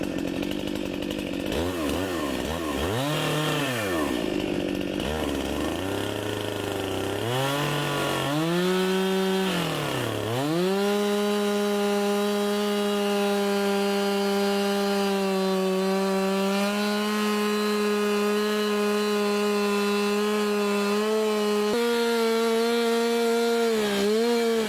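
A chainsaw plunge-cuts into a log being made into a beekeeping log hive, the engine revving up and down at first and then settling into a long, loud, steady cutting whine, close by with no talk.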